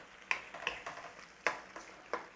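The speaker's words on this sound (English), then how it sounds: "We're just helping get this stuff off the bottom of the pan." A utensil scrapes and stirs onions across the bottom of a pan while making slow-cooked Liverpool scouse, five or six sharp scraping strokes at an uneven rhythm, close and fairly quiet.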